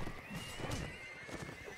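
Horses neigh and gallop with clip-clopping hoofbeats during a team battle match, Strike Force versus Rebels, at moderate volume amid a busy, noisy game soundscape.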